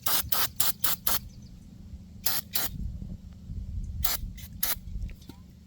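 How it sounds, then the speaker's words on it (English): CRC throttle body and air intake cleaner is sprayed from an aerosol can onto a Chevy throttle body in several short, loud hissing bursts of varying length, separated by pauses with faint garage background noise. "So what I'm gonna use is a CRC throttle body and air intake cleaner."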